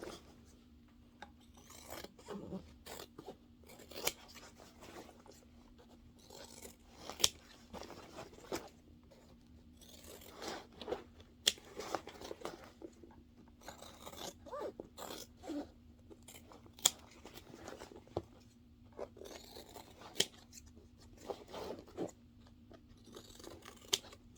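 Scissors trim fabric seam allowances on a sewn pixie, producing repeated soft snips and rasping rubs at irregular intervals, fairly quiet and close, over a faint steady hum.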